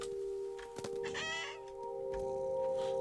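Chicken clucking from the video game What Remains of Edith Finch, a few short clucks over a steady game music drone with a faint background hum.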